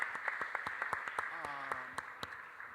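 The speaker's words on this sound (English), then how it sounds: "actually give a round of applause for those salient points" A scattered round of clapping from an audience at an educational summit in a college hall, thin and spread out, with a voice speaking over it.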